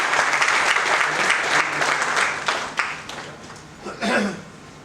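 Loud audience applause at a guru-honoring ceremony, dense and sustained at first, then thinning and fading, with a brief swell near the end and a voice briefly heard.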